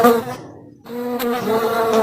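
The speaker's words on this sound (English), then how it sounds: "a buzzing of a bee" A bee buzzes steadily close by, a droning hum with a brief dip partway through before the buzz returns and continues.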